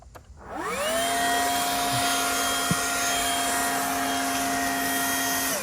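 A STIHL BGA57 battery leaf blower spins up from quiet within the first second and then runs at a steady, loud, even whine with a sustained tonal hum and airy rush, close by and with no talking.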